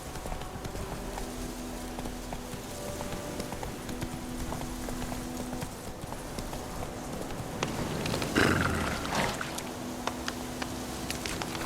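Roach, the horse in The Witcher 3, gallops in a steady, rapid clip-clop of hooves that runs the whole way, close and even, over a hissing, rain-like background.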